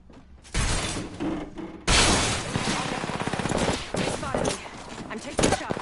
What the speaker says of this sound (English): I hate energy guns, bro.